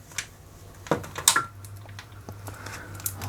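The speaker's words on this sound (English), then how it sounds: "The cogs are going round" A Rexel laminator switched on with its cogs turning gives off a low steady hum, with scattered small clicks and a few sharper knocks over it, close by and with no talking.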